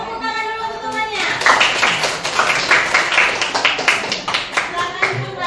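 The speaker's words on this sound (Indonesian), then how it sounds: "Udah ya, beri tepuk tangan dulu untuk temannya." Junior high classmates applaud in a classroom, a burst of loud, overlapping hand claps that builds after a second and continues steadily, with faint children's chatter beneath.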